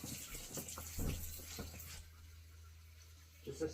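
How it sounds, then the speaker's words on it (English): Water poured into a bottle already holding peroxide, a short gushing, gurgling fill in the first couple of seconds that trails off into quiet room sound, soft and close. "And then I'll add the water"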